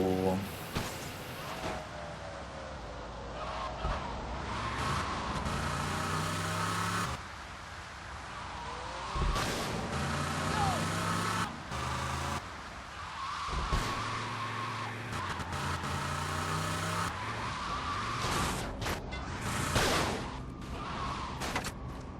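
A car drives off and skids in the video game GTA Vice City, with a loud engine roar and repeated tire squeals rising and falling, broken by short gaps, over continuous game background sound.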